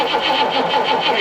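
A 1969 Rover P6 Series 1 3500 V8, sitting unused for 16 years with fuel not yet pumping through and a weak battery, cranks over in a steady, rhythmic churn. It is close and continuous, with no voices.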